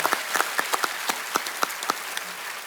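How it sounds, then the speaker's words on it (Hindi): Scattered claps from a comedy show studio audience, a sparse handful of distinct hand claps spread unevenly across a short moment, fairly close and without any voices. "एक बार जोरदार तालियां हो जाए।"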